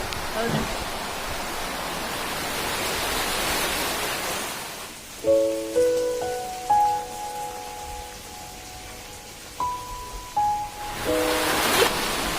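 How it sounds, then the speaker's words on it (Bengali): Heavy rain pours in Dhupguri as a loud, steady hissing roar for about five seconds, then drops back under a tonal melody before surging again briefly at the end. "বৃষ্টির যা আওয়াজ, বাপরে"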